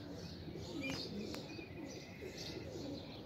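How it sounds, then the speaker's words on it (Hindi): Kasuri pigeon coos softly amid other pigeons in a loft, low repeated cooing with a couple of faint chirps and sharp clicks over a steady background hum. "ये आ गया जी कसूरिया कबूतर है"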